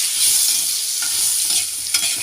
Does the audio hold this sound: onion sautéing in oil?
yes